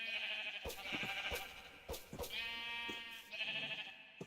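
Sheep in the Minecraft video game bleat several times in a row with short, nasal calls. They are close and fairly clear, with soft game sounds and clicks in the background.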